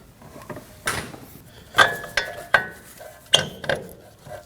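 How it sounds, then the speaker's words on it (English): A nut is worked off the tie rod of a Chevrolet Colorado with a ratcheting tool, giving several sharp metallic clicks and clanks at irregular intervals in a quiet garage. "Remove the nut from the tie rod."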